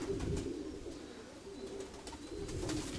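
A homing pigeon hen held close coos in a low, soft, repeated rhythm, several coos rising and falling steadily across the stretch without any talk.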